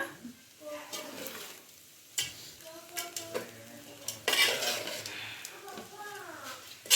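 Avalakki chitranna (poha chitranna) being stirred and mixed with greens in a pan, with scraping and clinking of a spoon against metal and light sizzling, close and moderately loud, with speech over it.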